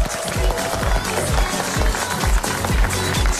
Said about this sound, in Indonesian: Oh, beri tepuk tangan dulu untuk kedua negara.